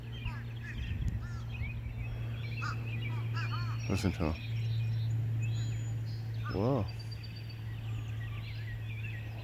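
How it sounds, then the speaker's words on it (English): Several harsh crow calls ring out from a distance, a few rough cries clustered near the middle, over a steady low hum with someone talking briefly. "Oh, bunch of crows."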